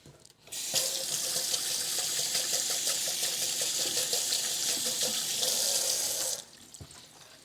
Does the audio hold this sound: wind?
no